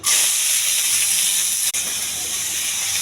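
Chopped onions sizzling in hot oil in a pan for prawn curry, a loud, steady bright hiss throughout with one brief dip, no talking.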